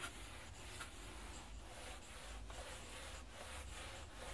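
A board is rubbed clean to erase written chemistry notes, giving a soft, rhythmic back-and-forth scrubbing with about two strokes per second, close and quiet with no talking.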